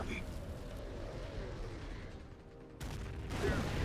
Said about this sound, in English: Artillery off map plus howitzers, everything shoots at the enemy